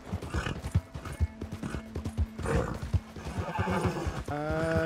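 In Red Dead Redemption 2, a horse whinnies loudly near the end, preceded by steady clip-clopping hooves and snorts close by.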